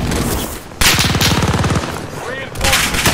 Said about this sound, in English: The enemy is firing at me.